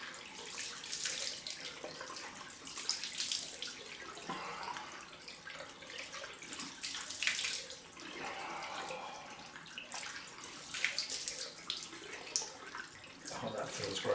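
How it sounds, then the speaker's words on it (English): Cold water from a bathroom tap runs steadily into a sink, a continuous close hiss and splash that swells and eases slightly over the whole stretch, with no one speaking over it. "Let's get this cold water running."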